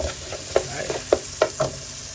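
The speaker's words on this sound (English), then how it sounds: "the onion's been sauteing" Onion sautéing in a pan, a low steady sizzle with several soft stirring scrapes and taps spaced across it, close by, no talk.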